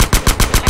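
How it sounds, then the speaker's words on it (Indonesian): Rapid automatic gunfire in the video game GTA, a loud burst of about five evenly spaced shots. "Main tembak-tembakan kayak gini ya, kawan-kawan."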